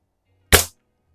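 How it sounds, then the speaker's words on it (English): A Beeman airgun fires once at a splatter burst target, a single sharp close crack that decays quickly, with quiet before and after. "let's shoot for that same splatter burst we were just shooting the Beeman at"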